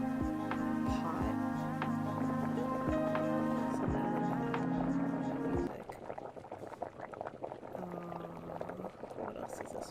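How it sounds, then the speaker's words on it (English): Liquid simmering over low heat bubbles softly, with tonal background music at first and then a steadier noisy bubbling that continues on its own. "Listen to the bubbles"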